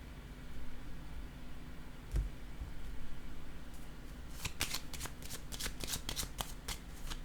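Tarot cards are shuffled in a quiet room, starting with a single soft tap, then a fast series of crisp riffling bursts near the end.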